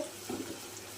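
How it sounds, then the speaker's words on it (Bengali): Water poured into a pot of fish curry with potol and potato, a brief quiet gurgling splash lasting about a second. "জল দিয়েছি"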